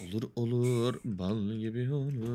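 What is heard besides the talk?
No distinct noise like a dog, phone or traffic.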